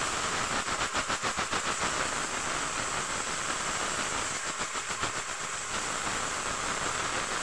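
Onions dropped into a hot pan sizzle in a loud, steady hiss with faint crackling pulses, close up and without talking.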